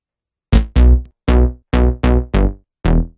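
Nexus 2 synth bass in FL Studio, for a techno remix. Seven punchy, bright notes start sharply and fade quickly in an uneven rhythm, loud and close, with no voices.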